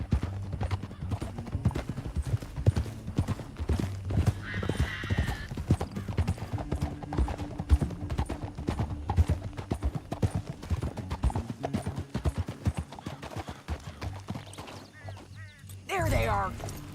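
Horse hooves gallop in Red Dead Redemption 2 as a steady, rhythmic clip-clop runs the whole way through, close and prominent, with faint voices and a brief whinny in the background.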